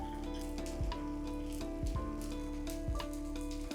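A wheat flour flatbread sprinkled with sesame seeds roasts on a hot pan over medium heat, giving a soft continuous sizzle with a few faint taps, close and without talk.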